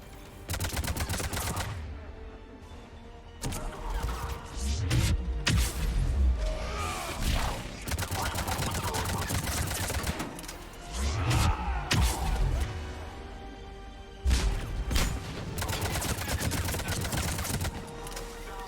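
Bursts of sci-fi weapon gunfire and impacts from a Mass Effect firefight against Cerberus, loud and dense, in irregular volleys with whooshes and crashes over about nineteen seconds, with voice lines woven through.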